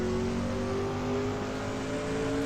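A car drives the last corners of a lap, its engine whirring steadily with gentle rises and dips in revs, heard from inside the car at a moderate, even level.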